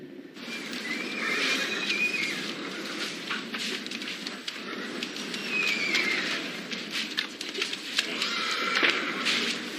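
Frightened horses neigh and whinny repeatedly amid chaos after a plane crash in a rural farm setting, with hooves clopping and a crackling, rain-like fire noise beneath; the calls rise in several loud bursts.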